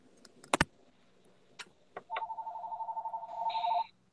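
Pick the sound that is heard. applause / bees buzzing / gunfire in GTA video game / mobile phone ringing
mobile phone ringing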